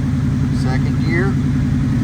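A Comet car engine runs steadily in second gear, a constant mid-pitched drone with a low harmonic hum, close and loud, while a voice talks briefly over it.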